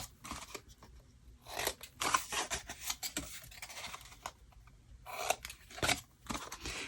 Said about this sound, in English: So I'm going to give it a little slight trim, clean these up, and go back around the other side.